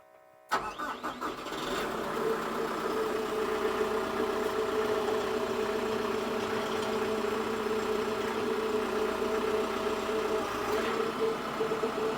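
A tractor engine cranks and catches after a short silence, then settles into a steady, loud mid-pitched idle with a constant droning hum running to the end.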